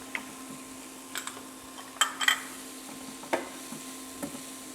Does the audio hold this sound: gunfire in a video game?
no